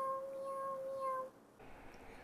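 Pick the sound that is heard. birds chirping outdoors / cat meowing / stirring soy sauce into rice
cat meowing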